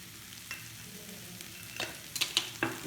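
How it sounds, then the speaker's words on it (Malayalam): A spoon stirs sprouted green gram mixed with coconut oil and chicken curry in a hot pan, a soft sizzle under a few scrapes and sharp clinks that cluster toward the end, quiet and near. "നല്ല പോലെ ഒന്ന് മിക്സ് ചെയ്തെടുക്കുക."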